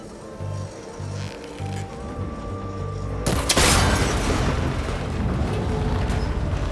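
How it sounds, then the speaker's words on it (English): In Horizon Forbidden West, a shot breaks a cable connector with a sudden heavy boom. A rumbling, crackling tail follows and lingers at a high level over the game's ambient music. "It should break if I shoot it."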